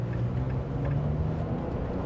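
The 6-cylinder engine of a 2025 Nissan Frontier Pro-X revs under throttle, a loud, deep, steady drone heard from inside the cabin, with no talk.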